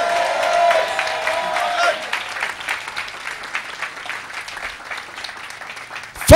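Congregation in a French-speaking church clapping in applause, a dense burst with cheering that thins into scattered claps over a few seconds, with a voice calling out over it.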